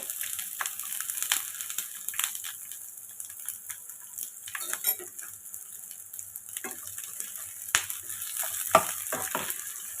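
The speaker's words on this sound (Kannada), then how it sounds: "ಇದನ್ನು ಫ್ರೈ ಮಾಡ್ಕೊಳ್ಳೋಕ್ಕೆ ಹಾಕ್ಕೊಳ್ತಾ ಇದ್ದೀನಿ" Onion, green chillies, garlic and ginger frying in a pan for vegetable pulao give a faint steady sizzle broken by scattered clicks and scraping stirs, nearby, with no voices.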